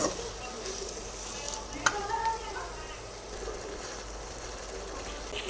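Fish pieces fry in a pan with mustard spice paste, a low steady sizzle with a sharp clink of a utensil partway through and faint stirring under quiet background noise.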